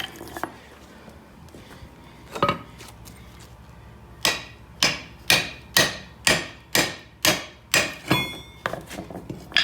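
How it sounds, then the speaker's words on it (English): A few scattered metallic knocks, then about ten sharp hammer blows on a ball joint press in a steady, rhythmic run, loud and close, during a Honda Civic front lower ball joint replacement. "We'll grab our hammer."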